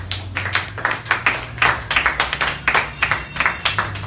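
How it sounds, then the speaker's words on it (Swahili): A church congregation claps for the Lord in a strong, fairly rhythmic unison beat, hands striking together in quick bursts that carry on steadily and close. "Pigia Bwana makofi makubwa"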